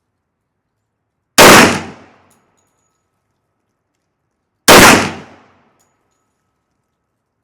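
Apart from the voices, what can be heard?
gunshots from a 460 Rowland handgun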